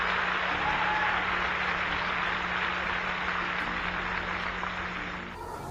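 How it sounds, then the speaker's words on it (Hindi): A congregation at a Christian preaching event by Paul Washer breaks into dense, sustained applause, a continuous roar of clapping that eases off slightly near the end. "मुझे नहीं पता आप तालियां क्यों बजा रहे हैं"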